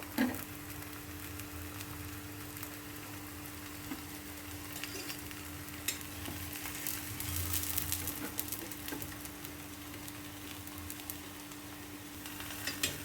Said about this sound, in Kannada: ಫ್ಲೇಮ್ ದೊಡ್ಡಕ್ಕಿಟ್ಕೊಂಡು ಇಟ್ಕೊಂಡು ಚೆನ್ನಾಗಿ ಬೇಯಿಸ್ಬೇಕು